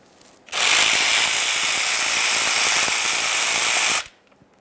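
Ratchet spinning off the 11mm mounting bolts that hold the front axle vacuum disconnect to the differential tubing of a 1994-2001 Dodge Ram: a single steady, loud mechanical whir of about three and a half seconds that starts and stops abruptly, with no talk.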